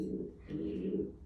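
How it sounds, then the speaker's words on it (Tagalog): Breeder pigeons coo in a low, continuous murmur, close and moderately loud, with soft wavering calls overlapping for the whole moment. "Uy, maingay mga kalapati mo."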